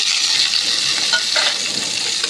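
Chopped chilli and onion sizzle loudly in hot oil with browned garlic as they are stirred in a pan, a bright steady frying hiss with faint scraping, close and without speech.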